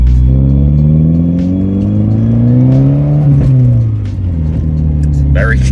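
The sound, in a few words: Nissan Pulsar GTiR car accelerating while driving away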